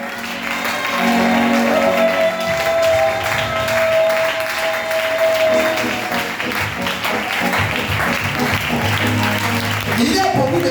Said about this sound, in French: lève-toi et acclame le Dieu